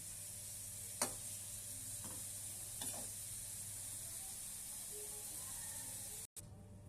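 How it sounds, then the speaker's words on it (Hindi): Raisins roasting in a pan give off a faint, steady hiss, with a few soft clicks of stirring scattered through the quiet. "हमारी किशमिश भी बहुत अच्छे से भून गई है।"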